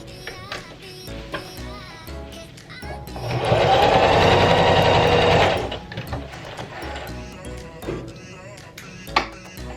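A sewing machine runs one steady burst of a couple of seconds, stitching tulle ribbon trim for a tutu. Scattered clicks and handling noises come before and after it, with some talk nearby.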